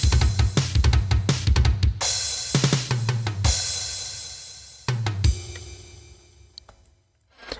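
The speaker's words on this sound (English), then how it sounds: "drums do this super cool tom groove" An approximated drum part built on a tom groove with dotted, jungle-style rhythms; punchy low tom hits and bursts of cymbal wash come in clusters, then decay and drop out near the end, no talking.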